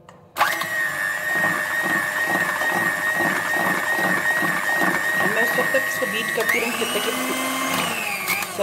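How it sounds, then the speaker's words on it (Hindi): Electric beater whirring steadily through a chocolate mousse mixture of cocoa powder, close and loud, holding a constant buzzing drone with a pitch shift near the end as the beaters change speed. "अब मैं इसको अच्छी तरह से दोबारा बीट करूँगी"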